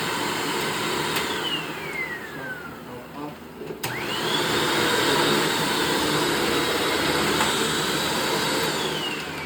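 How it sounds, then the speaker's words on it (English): A bagged vacuum cleaner runs loud and close with a steady motor whine. It winds down, clicks back on and spins up again to a constant roar. "This is pretty much the same vacuum."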